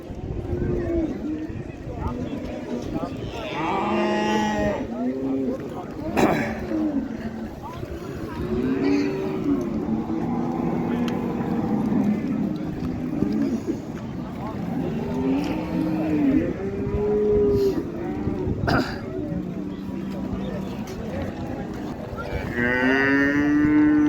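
Cattle at the Qarshi livestock bazaar give repeated low moos among crowd chatter and market bustle, with people talking throughout and occasional sharper knocks.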